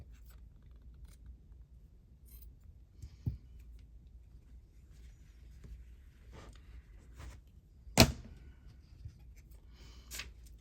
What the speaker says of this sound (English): I probably should get my smaller scissors.